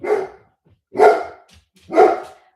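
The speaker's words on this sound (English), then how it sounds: "My dog just started barking." A dog barks three times in an evenly spaced sequence, each bark sharp, loud and close, with silence between them.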